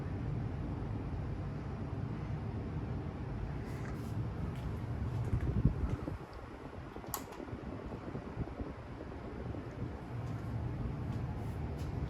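An SMC UF52 ceiling fan runs at a lower speed with a steady, soft airy whoosh and faint mechanical hum, continuous and close throughout.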